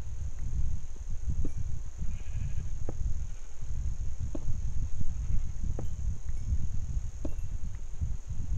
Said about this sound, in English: I can hear sheep above me.